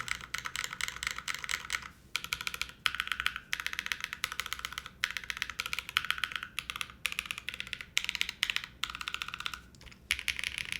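Typing on a QK80 mechanical keyboard clacks away in fast, continuous runs of crisp keystrokes with brief pauses between bursts, close and clear, with no talking.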